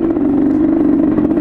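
Motorcycle engine on a dirt trail during a test ride, a steady mid-pitched drone with rattly texture and slight throttle wavering, loud and close throughout.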